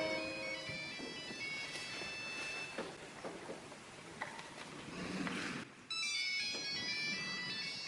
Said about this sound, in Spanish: comenzó a sonar el tono del típico teléfono Nokia